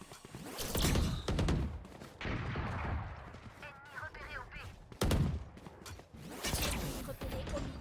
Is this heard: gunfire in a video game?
yes